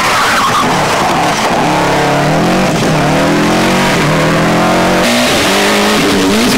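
Group A rally cars, including a Subaru Impreza, race on the 1995 Ulster Rally, with loud, close engines revving hard through the gears and tyres skidding, filling the whole stretch without commentary.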